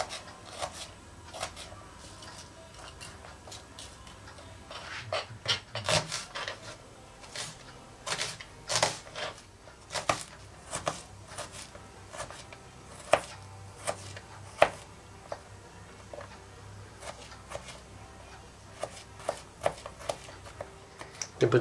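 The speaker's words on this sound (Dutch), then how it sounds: "De ui wordt gesneden." An onion cut with a knife: a long run of crisp, irregular chopping taps against a board, faint at first, then firmer and quicker, close and quiet with no voices.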